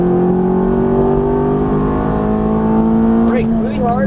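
A Ferrari F430 engine on a racetrack holds a loud, steady, rising tone throughout as the car accelerates under throttle, with a brief wavering near the end.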